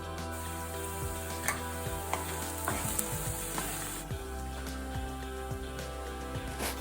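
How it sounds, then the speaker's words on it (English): Steady close sizzling of onions frying in a pan, with a few light clicks and scrapes of stirring over the continuous hiss. "We start off by chopping onions and frying them."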